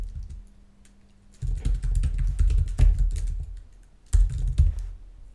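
HTML code is typed on a computer keyboard in quick bursts of clicking keystrokes, close by, with a pause in the middle before another short flurry of keys, and no talking.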